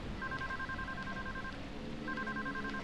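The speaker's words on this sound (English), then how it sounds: "I think that's a phone." An aggressive electronic telephone ring in the video game Deadly Premonition Origins, two bursts of steady paired tones over a low ambient game background, with a short gap between them.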